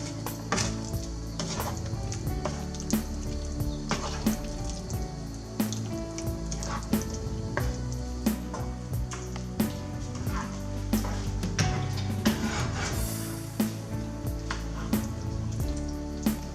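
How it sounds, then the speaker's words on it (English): Beans frying in a hot pan while being gently stirred, a steady sizzle broken by repeated scraping and clinking of the utensil against the pan, close and fairly quiet with no talking. "Turn the heat a bit high. You have to stir it gently so you don't smash all the beans,"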